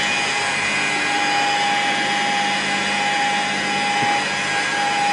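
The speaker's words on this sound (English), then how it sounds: "We'll just carry on polishing there." An electric polishing machine with a wool buffing pad runs steadily on polish, giving a loud, constant motor whine and whirring hum with a sustained tonal drone and no break or speech.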